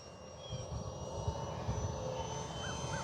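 An FMS T-28 Trojan 800mm radio-controlled plane flies at a distance, its faint motor drone rising and falling slightly as it passes overhead.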